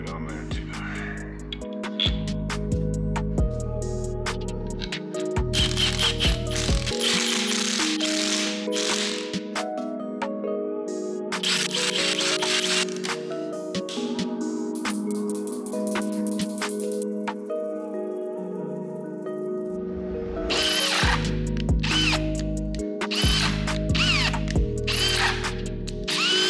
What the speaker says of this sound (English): Bolts get torqued to 40 foot pounds.